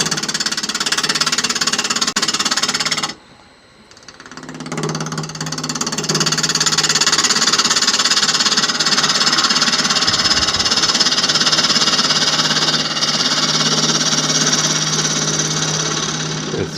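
Wood lathe turning a piece of elm or oak for a natural-edge clock, a steady loud machine drone broken by a brief dip near the start, with a tool cutting into the spinning wood.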